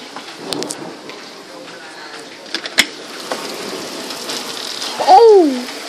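Hail pelting a truck during a tornado-warned thunderstorm, a steady dense rattle of impacts with sharper cracks and thunder, while people talk nearby.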